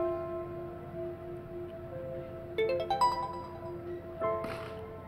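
A short electronic phone notification chime sounds twice over a steady background tone, bright and close, with no talking.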